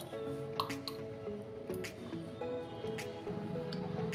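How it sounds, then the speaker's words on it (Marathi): Boiled onion water strained into a glass, a steady wet trickle with scattered drips and small squishy sounds, close and continuous throughout. "आता हे सर्व पाणी आहे आपण एका ग्लासमध्ये आपण गाळून घेऊया"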